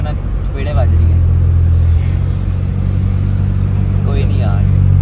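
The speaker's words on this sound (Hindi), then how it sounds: "बड़े दिन बाद गाड़ी के शीशे डाउन करके मैं गाड़ी चला रहा हूँ दिन टाइम, इतना एक तो शोर आ रहा है" A car is driven in daytime with its windows down. A heavy low road rumble and wind roar swell and stay loud, and someone talks over the noise.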